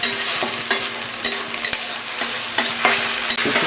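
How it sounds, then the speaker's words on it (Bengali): Spice paste with a splash of water fries in a pan for a fish-and-aubergine curry, a steady close sizzle broken by repeated scraping stirs of a spatula, with no voices. "এই মশলাটাকে আমি একটু ভালো করে জল দিয়ে করে ভেজে নিই"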